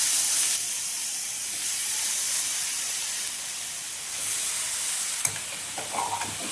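Mushrooms frying and being stirred with spices in a hot pan, a steady close sizzle and hiss running throughout, with a few scraping stir clatters near the end.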